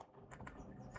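Several quiet, close keystrokes are tapped on a computer keyboard in a short, uneven burst.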